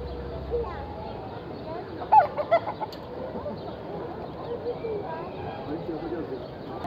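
Roosters and turkeys at a petting zoo cluck and call in a short burst of several quick notes midway, over low outdoor ambience with a person talking softly in the background.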